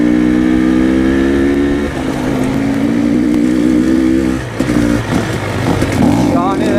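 An off-road motorcycle on a trail in Spain revs hard as the rider pulls small wheelies, a loud close engine drone rising and dropping in pitch with throttle bursts while people talk over it.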